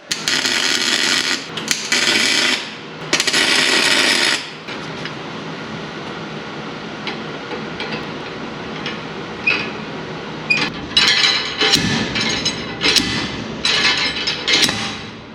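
Loud bursts of metallic rattling and scraping as a slide hammer pulls a metal part, followed by a run of sharp clanks and knocks on metal, with no talking.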